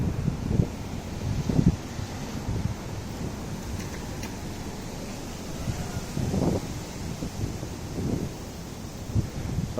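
Strong gusts from Tropical Storm Fay sweep a New York City street, a steady rushing wind with buffeting bursts against the microphone and rustling, rising and falling throughout without talk.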